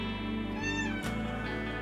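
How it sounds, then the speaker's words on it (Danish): A cat meows with a clear, drawn-out call, heard close and alone against a steady background hum in a Danish animal shelter. "Han er en skøn kat"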